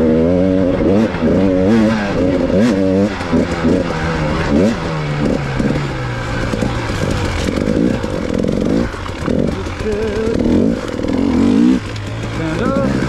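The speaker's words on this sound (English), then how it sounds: "I'm still a little bit paranoid the bike's going to let me down, but it seems to be running great" A KTM dirt bike engine snarls and revs while riding off-road through rough ground, loud and close with constant throttle swells and rasping changes in pitch, with a rider's voice breaking in now and then.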